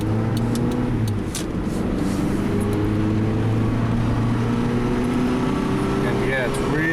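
A Honda car drives with its engine droning steadily and rising in pitch as it struggles and hunts to shift into third gear, continuous and close throughout.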